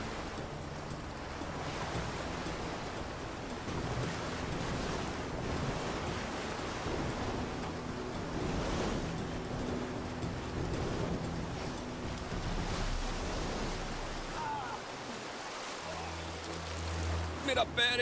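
A fast river current, running at about 15 kilometres per hour over rock, rushes in a loud, steady wash of broadband noise that fills the whole stretch, with occasional splashes near the end.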